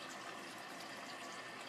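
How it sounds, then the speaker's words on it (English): Hot water runs steadily from a kitchen sink tap, a continuous even hiss and splash with no pauses, faint and alone. "I'm running the hot water in my sink"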